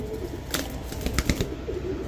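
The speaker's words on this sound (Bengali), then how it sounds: "আপনার কবুতরটা কিন্তু আমরা ভিডিওতে দেখাচ্ছি নেপালিয়ান হাই ফ্লায়ার কবুতর" A Nepalese high flyer pigeon held in the hand beats its wings in a few short, close flurries of soft flapping, with quiet gaps between bursts.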